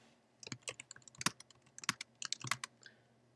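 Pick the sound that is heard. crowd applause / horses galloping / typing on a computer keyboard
typing on a computer keyboard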